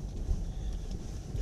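Wind buffets the microphone in steady low rumbling gusts during a Mercedes 4x4 off-road driving experience, a continuous blustery roar with no clear voices.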